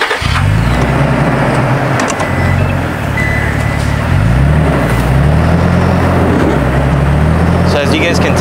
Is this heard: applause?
no